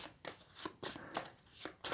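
Playing cards riffle and slide together in a few short, crisp bursts of shuffling at close range, mixed during setup of the board game Vicomtes du Royaume de l'Ouest.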